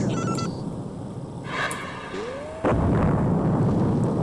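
Booming explosions from a destroyed enemy target in the mech game Earthsiege 2, a heavy blast at the start and a loud sustained rumbling eruption after a short rising electronic tone, near and dominant.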